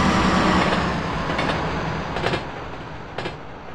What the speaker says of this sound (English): There is a local 4 train to Woodlawn approaching the station.